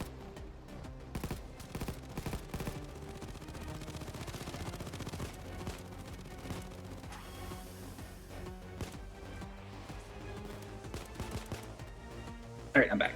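Gunfire from an automated turret in a video game patters in rapid, dense bursts through most of the scene, fairly quiet and mixed under other game sounds and occasional talk.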